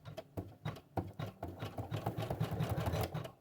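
An embroidery machine stitches a zigzag border around an applique, its needle chattering in a fast, steady mechanical rhythm close by, with no voices.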